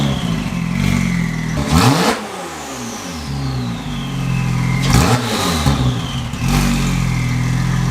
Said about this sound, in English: the exhaust that's on it now is completely straight piped with an X, so it sounds amazing